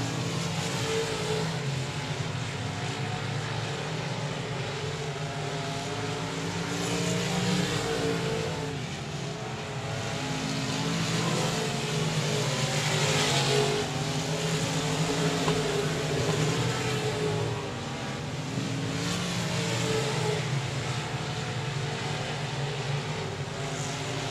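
Race cars roar around the Texarkana 67 Speedway track, a continuous engine drone that swells and fades as cars pass, heard from some distance with no clear voices over it.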